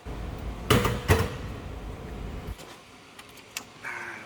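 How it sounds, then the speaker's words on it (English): Drawers of a bus technician's tool roll cart slide and knock, with two sharp metallic clunks early on, then lighter clicks and a rattle as they move, close by in a quiet shop. "let's move on to the other drawers."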